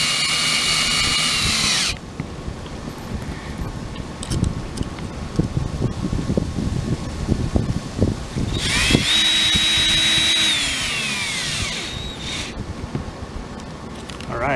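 A cordless power drill with its clutch engaged drives screws into plastic corner mounts during a solar panel install on a 19 ft travel trailer roof; two sustained whirring runs with rising and falling pitch, outdoors with wind noise.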